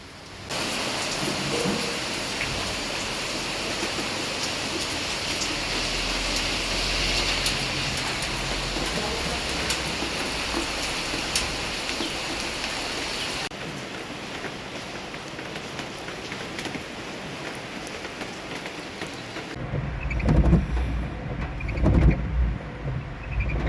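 Heavy monsoon rain in Rajkot pouring down steadily in a dense, hissing wash, easing slightly midway, with low rumbling thumps near the end.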